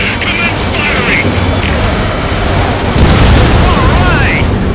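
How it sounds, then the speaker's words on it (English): Rumbling explosions as the rail cannon is destroyed in the Ace Combat 7 flight game, a dense continuous roar of blasts under jet engine noise and radio chatter. "Confirming explosions. The rail cannon's been destroyed."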